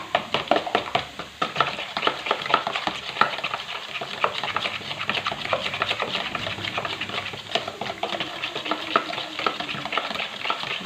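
Two eggs and half a glass of oil whisked by hand with two forks held together, for a chilled orange cake: a continuous, busy rapid clicking and scraping in a bowl, steady and close throughout, with no talk.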